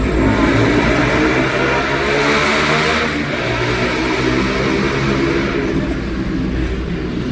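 A loud tricycle engine roars past near a railway station in Meycauayan, a steady, noisy mid-pitched drone that swells and holds for several seconds without speech.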